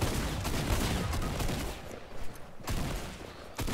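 Heavy, continuous gunfire from a shooter video game, a dense barrage of rapid shots with brief gaps, loud and close throughout.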